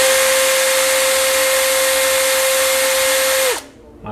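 A Power Action BID20 cordless hammer drill boring into concrete, a loud continuous whining grind with a steady motor tone that cuts off sharply near the end.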